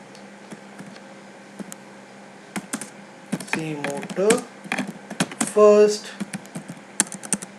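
Typing on a computer keyboard, with scattered clicky keystrokes that come in short bursts and sit beside someone speaking briefly.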